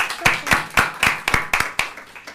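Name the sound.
audience applause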